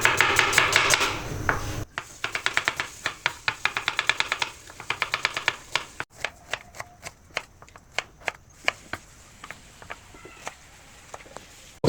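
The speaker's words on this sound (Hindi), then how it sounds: "हम देखें, हम कटिंग करते हैं।" Knife chopping ingredients for chana pulao on a cutting board, with rapid bursts of close, crisp taps giving way to slower, irregular single chops over steady kitchen background noise.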